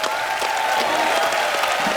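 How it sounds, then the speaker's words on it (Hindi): A studio audience on a comedy talk show gives a brief, steady burst of applause for three film-star brothers. The clapping is continuous, moderately loud and mixed with faint crowd noise. "एक बार सलमान भाई, सोहेल भाई और अरबाज भाई के लिए जोरदार तालियां हो जाएं।"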